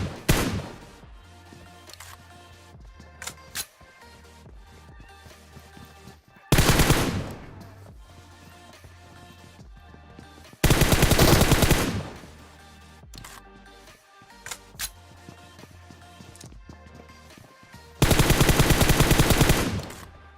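Gunfire rings out in the PUBG Mobile battle game: scattered single shots and short bursts give way to three long, loud, sustained automatic volleys, close and dense, with no voices.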